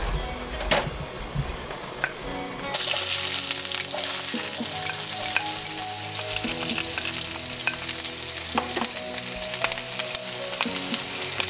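Tomato fries in a pan, first quietly, then jumping to a loud bright sizzle as it goes in, with sporadic utensil clicks and scrapes over the continuous frying.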